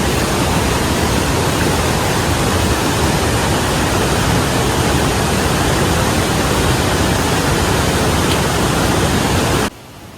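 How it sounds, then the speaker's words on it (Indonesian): A mountain waterfall at a large water source on the Karangan route up Mount Latimojong in Sulawesi pours with a loud, close, unbroken rushing roar that drops away abruptly just before the end. "ada air terjun udah."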